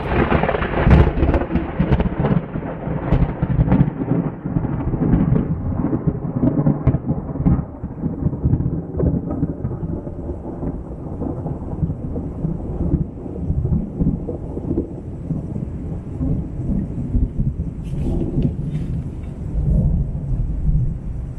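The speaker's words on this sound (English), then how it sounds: "Now it's pouring rain." Heavy rain pours down in a constant dense roar, with deep thunder rumbling through it for a long stretch, in the Tuamotus during cyclone season.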